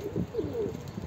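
A pigeon gives a short, soft, low coo, close by and alone.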